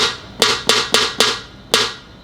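A dry snare drum sample with no reverb is struck five times in an uneven rhythm, each hit sharp and bright with a quick decay, alone and close.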